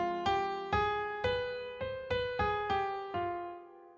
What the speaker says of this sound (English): If I use a raised 7th, it would sound like this.